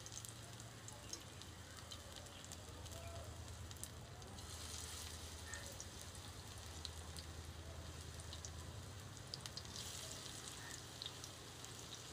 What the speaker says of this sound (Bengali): এবার বড়াগুলোকে ভেজে নেব।